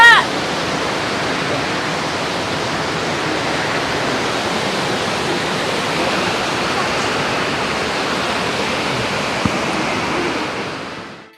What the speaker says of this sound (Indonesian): Tanggul jebol Citarum.